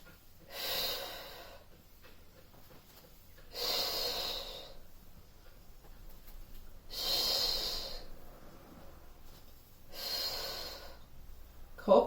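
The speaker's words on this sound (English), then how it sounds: "breathing out," Four slow, audible exhalations during a Pilates class, evenly spaced several seconds apart, each a breathy whoosh close to the microphone in an otherwise quiet room.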